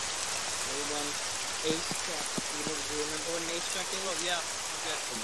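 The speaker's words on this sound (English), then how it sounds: "Rain is so loud." Constant loud rain hiss in ARMA 3 fills the background while a person speaks briefly over it.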